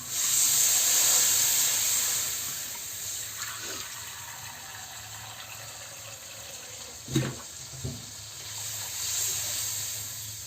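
Water poured into a hot pan of vegetable curry with fried brinjal, a loud hiss and rushing of water at first, then a softer steady simmer with a couple of brief clanks; no talk.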